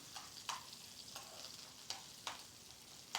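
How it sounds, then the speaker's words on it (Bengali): Spices frying in soybean oil for a black cumin (kalijira) mash, heard as a faint steady sizzle broken by several soft stirring scrapes, with no voices. "এগুলো সব দিয়ে ভাজা ভাজা করব।"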